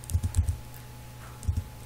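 Computer keyboard typing Java servlet HttpSession code: two short bursts of a few close, crisp key clicks separated by a quiet pause, with no talk.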